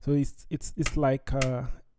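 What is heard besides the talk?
None of the usual background noises is heard.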